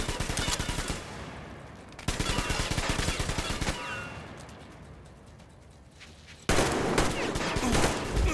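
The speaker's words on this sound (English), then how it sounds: "Let's stop shooting Deco." Gunfire in the video game Metro Exodus: loud, rapid automatic bursts in long rattling runs, broken by a quieter stretch of lingering echo before another dense burst, with no voices.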